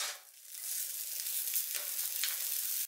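Rava (suji) uttapam with vegetables sizzles steadily in oil on a hot pan, a continuous bright crackling hiss that dips briefly before settling at an even level.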